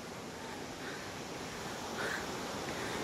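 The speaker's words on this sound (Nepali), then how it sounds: "ल हामी फाइनल्ली जलबिरे झरनामा पुग्यौँ।" The Jalbire waterfall gives a steady, broad roar of rushing water, even and continuous throughout, with no talk.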